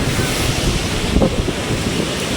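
High tide floodwater flowing into a hut: a steady, loud wash of rushing water with wind-like noise that holds constant throughout and carries no voices.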